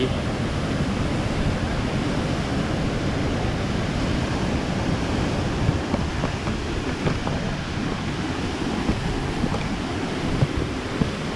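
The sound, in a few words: waterfall rushing water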